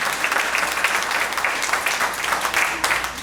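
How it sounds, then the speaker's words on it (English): Audience applause at a Ms. Senior Davie County pageant, a steady, dense patter of many hands clapping, moderately loud and continuous throughout. "Let's give her a round of applause."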